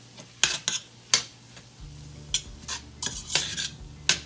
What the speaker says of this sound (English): we're going to stir all that up